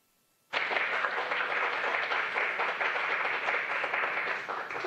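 A Mission Control team bursts into sustained applause and cheering for astronauts arriving at the International Space Station, a dense steady wash of clapping that starts abruptly and carries on loudly to the end.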